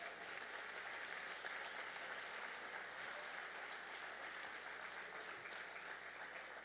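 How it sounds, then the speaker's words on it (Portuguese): Church congregation applauding in praise, a steady dense wash of many hands clapping that fills the whole stretch without pause, no voices standing out. "Você pode dar uma salva de palmas ao Senhor por isso?"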